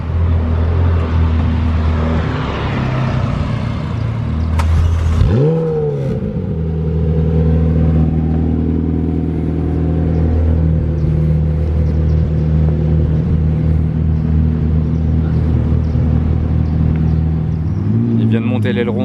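Two McLaren 720S Mansory carbon-kit supercars pulling away, a loud deep engine rumble with a rising rev sweep as they set off, then a sustained low drone and another throttle rise at the end, with some voices under the noise.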